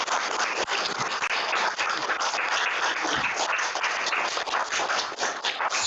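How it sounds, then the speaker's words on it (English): Sustained, dense applause from the audience at a town council meeting after a new mayor is announced, with many people clapping steadily and loudly throughout and no voices standing out. "A round of applause."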